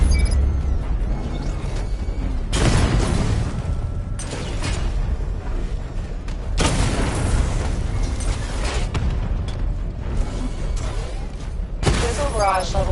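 Missile barrage explosions in a video game, a dense run of booming blasts and bursts heard loud and close throughout, with heavier hits recurring every few seconds.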